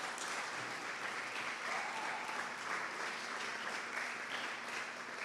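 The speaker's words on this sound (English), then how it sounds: "Let's give them a round of applause" Steady, even applause from a crowd at a primary school graduation, continuous and moderately distant throughout.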